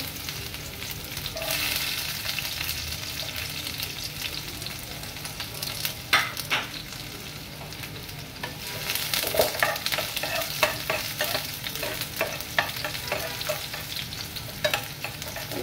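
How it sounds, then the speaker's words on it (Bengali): Onion and garlic fry gently in a pan, a steady sizzle overlaid with repeated scraping and knocking as they are stirred, growing busier midway, with no speech. "পেঁয়াজ আর রসুনটা হচ্ছে হালকা ভেজে নিব"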